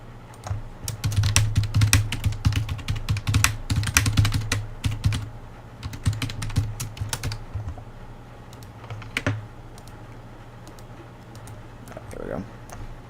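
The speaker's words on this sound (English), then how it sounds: "Just typing a quick message here." Rapid clattering keystrokes on a computer keyboard as a quick message is typed, loud and close in dense bursts for about eight seconds before thinning to a few scattered taps, over a low steady hum.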